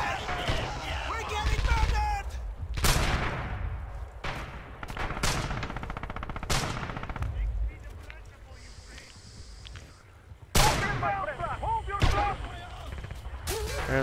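Gunfire in the Red Orchestra 2 video game, including an MG42 machine gun, comes as repeated loud shots and booming blasts, with someone talking over them.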